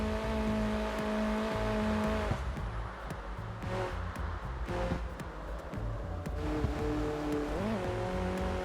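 A sports car's engine hums and drones at high speed, close and steady, in CarX Street, with pitch shifting through gear changes and a brief rising whine near the end.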